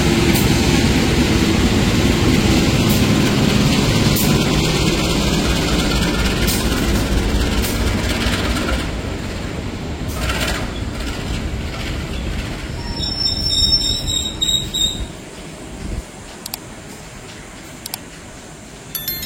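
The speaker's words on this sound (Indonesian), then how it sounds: "Dan di sebelah sana ada kereta masuk lagi di jalur 1." An Indonesian passenger train pulls into Tegal station on platform track 1, a loud, steady rumble of wheels and carriages that eases off over time, with a brief metallic wheel squeal near the end.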